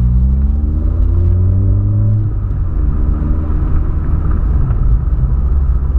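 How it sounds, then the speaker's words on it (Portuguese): A VW Polo fitted with a 4-inch exhaust, heard from inside the cabin as the engine revs, a loud deep droning rumble that rises and falls in pitch through repeated throttle blips with no talk. "Dá uma acelerada aqui por dentro pra vocês verem como que tá."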